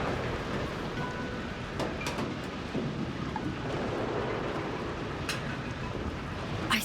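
Thunderstorm with steady rain in the video game The Invincible: a continuous, even wash of rain hiss over a low rumble of thunder, holding at a constant level throughout with no voices.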